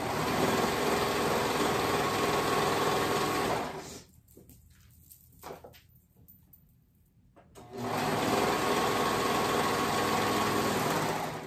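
A sewing machine runs steadily while stitching fabric for a top, with a close, continuous whirring hum. The hum stops for a few seconds of quiet handling of the cloth, then starts again.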